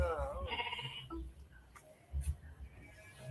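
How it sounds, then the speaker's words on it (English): Goats in Ghana bleat nearby, a couple of wavering calls up front followed by quieter bleats and rustling, with faint human sounds between them. "we got goats"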